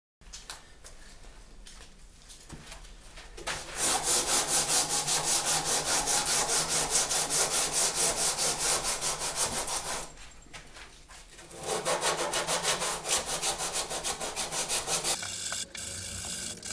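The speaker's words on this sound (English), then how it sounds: "I'm just going to spend a few minutes going over this with a 60 grit to kind of refine this shape" Rhythmic rasping strokes of 60 grit sandpaper on a Telecaster guitar body, loud and close, coming in long sustained bursts separated by a quieter pause.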